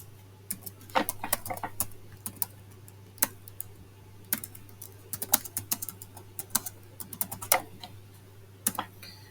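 Irregular clicking keystrokes on a computer keyboard as R code is typed come in short bursts and scattered taps, fairly close, over a faint low hum.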